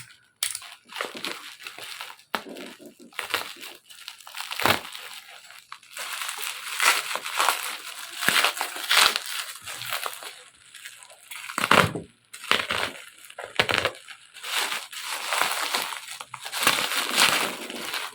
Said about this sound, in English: So let's unbox this and check what is in it.